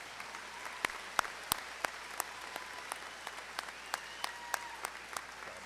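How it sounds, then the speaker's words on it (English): Graduation audience applause for the Cambridge-Isanti High School class of 2024, a soft, distant wash of clapping across a large crowd with a few sharper individual claps standing out. "Please join me in one more round of applause for all the things our graduates have accomplished."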